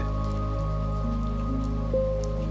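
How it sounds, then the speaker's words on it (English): Rain runs down a cabin window in a continuous soft patter, with a low steady hum beneath it. "rain tracing slow rivers down the outside"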